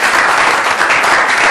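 An audience applauds the resident band at a live show, a dense, steady wash of clapping that stays loud and even across the short moment, with no voices over it.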